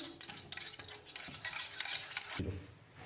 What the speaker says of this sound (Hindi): ये हम इसमें डालेंगे 2 टीस्पून कोको पाउडर। इसको मिक्स करेंगे।